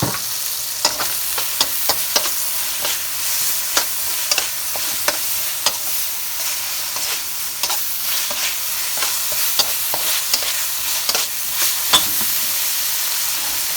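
Onions and carrots stir-fry in a hot pan for teriyaki chicken and shrimp, a steady loud sizzle broken by frequent sharp clicks and scrapes of stirring, close up with no talking.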